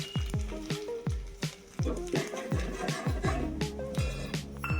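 Cumin and chili powder hit hot oil with curry leaves for tamarind rasam, crackling and spattering in sharp, irregular pops over a soft sizzle.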